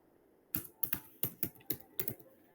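Code typed on a computer keyboard during Java programming: about a dozen crisp, close key clacks, mostly in quick pairs spaced at a steady pace.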